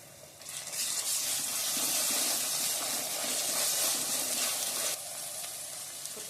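Onions frying in a pan with a ginger, garlic, fennel and cumin paste for a Tamil-style chicken gravy, giving a steady close sizzle and hiss that drops slightly in level near the end, with no talking.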